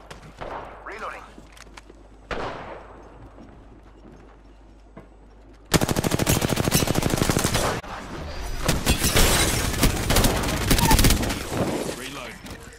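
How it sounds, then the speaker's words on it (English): Enemy gunfire in the Apex Legends video game: a few scattered shots, then a long, loud burst of rapid automatic fire, followed by more bursts and a voice talking. "They're shooting at me."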